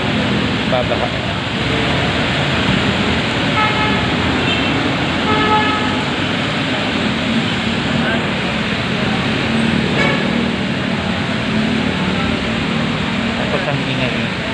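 Busy Manila street traffic with a steady roar of passing vehicles and a few short car horn toots scattered through, continuous and fairly loud, with rain around and voices faintly underneath.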